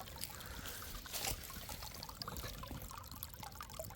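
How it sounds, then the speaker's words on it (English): Water trickling steadily out of a basement perimeter drain pipe into a frog pond, a faint continuous dribble and splash, heard alone. "That's how much water is coming out of the basement, because the floor is actually below the water table and we got a perimeter drain."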